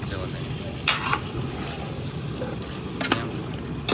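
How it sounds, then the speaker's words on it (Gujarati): A pan of palva and selva vegetable curry is stirred, with a few scraping spoon strokes standing out over a soft, continuous sizzle of cooking. "મસ્ત મજાનું શાક નાખાઈ ગયું છે અને હવે બધું હલાવવાનું"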